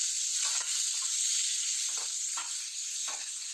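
Chopped tomato cooking with roasted onion in a pan for a red chili momo chutney, a steady, close hiss of frying with a few brief stirring scrapes, no voices.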